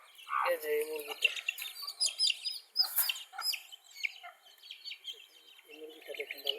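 Day-old desi chicken chicks chirping in thin, high, rapid peeps scattered throughout, close by, while a person talks over them.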